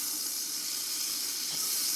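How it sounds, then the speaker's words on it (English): A steak frying in a cast-iron pan gives a steady, close sizzle and hiss that runs unbroken the whole time, with no talking. "I'm just frying up a steak here"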